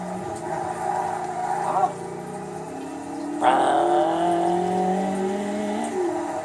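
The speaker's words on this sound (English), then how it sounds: "Look at the RPM, right when you can tell when I'm stomping on the gas in this car" Race car engine revving in the Forza racing game, a loud sustained whine rising and falling through gear changes with a sharp surge midway, with someone talking over it.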